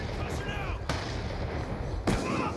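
Two sharp gunshot bursts ring out in the Black Ops 2 multiplayer map Cove, spaced about a second apart, over a dense background of game noise and muffled chatter.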